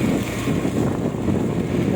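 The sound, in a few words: strong wind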